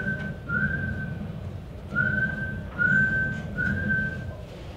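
A person whistles in a forest, four sustained steady tones in a row with short gaps, clear and fairly close over a low rumbling background.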